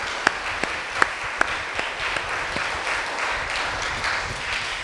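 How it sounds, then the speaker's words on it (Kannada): A church congregation at a Kannada Holy Eucharist service claps together in a dense, sustained wash of applause, with a few sharper nearby claps standing out early. "ಚಪ್ಪಾಳೆ ತಟ್ಟಿ ದೇವರಿಗೆ ನಾವು ಕೃತಜ್ಞತೆ ಸಲ್ಲಿಸೋಣ"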